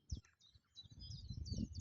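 Small birds chirp and tweet in short, high calls beside the Macclesfield canal, fairly faint and distant over a low outdoor rumble.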